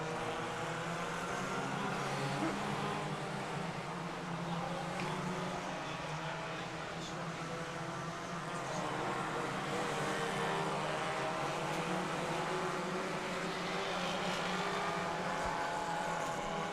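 Several 1300cc saloon stock cars race at the 1995 BriSCA UK Open Weekend meeting, their engines a dense, continuous roar that stays loud and steady throughout, with faint commentary underneath.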